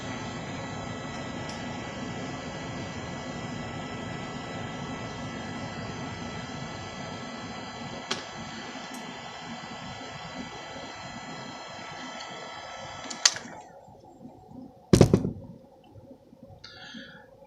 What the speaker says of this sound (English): you'll have to apply the heat some more